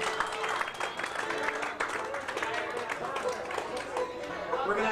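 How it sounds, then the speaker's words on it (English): Audience applause for a band's mandolin player at a Broadway, Fairfax, California show, scattered clapping from a modest crowd with chatter mixed in, fairly close and tapering toward the end. "Let's clap a little for him and see how good he's doing."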